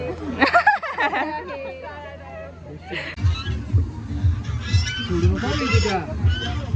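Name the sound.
duck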